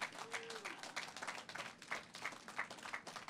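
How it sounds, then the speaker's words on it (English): Festival audience clapping in a steady, fairly quiet and distant wash, with a few louder claps standing out and a brief voice rising over it near the start. "let's give a round of applause for South Korea and China and our great trip coming up this week."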